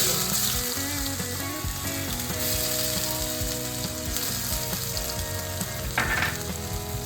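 A garlic and coriander paste fries in a pan over mustard seeds and asafoetida for patwadi rassa, with a steady close sizzle under tuneful background music.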